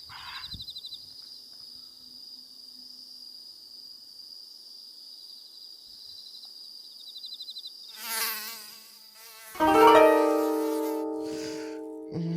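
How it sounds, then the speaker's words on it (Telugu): Mosquitoes whine in a thin, steady high-pitched drone for several seconds outdoors, then louder clattering and other noises cut in toward the end. "బయట వండుకుంటేనేమో ఈ దోమల గోల"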